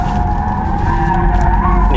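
BMW iX3 M Sport electric SUV tires skidding under hard braking on a hot day, a loud, sustained squeal running steadily throughout with road and vehicle noise beneath.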